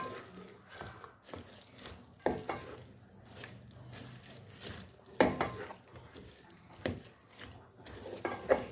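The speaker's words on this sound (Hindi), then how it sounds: "अब इसमें हम बंद गोभी डालेंगे और इसको हम अच्छे से मिक्स कर लेंगे।" Shredded cabbage is stirred into vegetables cooking in a pan: quiet scrapes and clinks of a spoon at an irregular pace over a faint sizzle.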